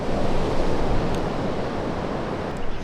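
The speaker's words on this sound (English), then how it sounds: "The swell's picked up overnight again, so it's sort of fun waves" Surf rolls onto a long straight beach at Rainbow Beach, a loud, continuous wash of breaking waves with wind buffeting the microphone and no voices.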